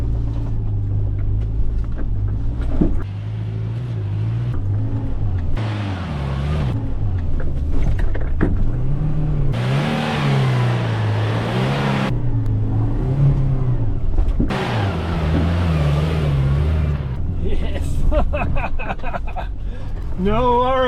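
Four-wheel drive vehicle crawling over deep ruts, rocks and soft sand on a remote South Coast WA track, engine revving in repeated surges, loud and close, with voices talking over it.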